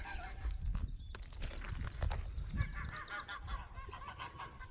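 Geese near a meadow, heard from a rooftop, honk again and again in a noisy flock. The overlapping calls sound moderately distant and steady throughout, with some low thumping underneath.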